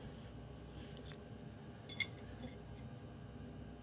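A tube is snipped with scissors-like cutters, giving a couple of quiet clipping snaps with one sharp click midway, over a steady low background.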